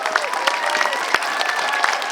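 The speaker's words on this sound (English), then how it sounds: "Let's give another round of applause to these two young." Applause from a crowd at an outdoor Stop Asian Hate rally in Ridgewood, a steady patter of clapping at moderate distance with faint cheering mixed in.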